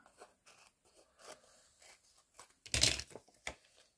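Scissors trim the excess edge off a freshly laminated paper pouch for a mini envelope album, giving a close, crisp crunchy snip burst followed by a smaller second cut.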